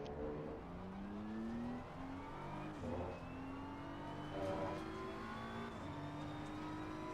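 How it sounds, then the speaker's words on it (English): Race car at full throttle on the Nordschleife in Assetto Corsa Competizione, engine note climbing steadily through the gears with rising harmonic whine, loud and continuous throughout with no talk. "And then as soon as we hit the inside curb, we floor the car."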